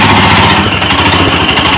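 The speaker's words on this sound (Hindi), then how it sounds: "लो बाइक चलाओ यार" Loud, close motorcycle engine chugging steadily as the bike rides along, a continuous rough mid-pitched drone with no talk over it.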